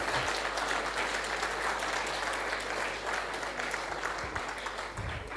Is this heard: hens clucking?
no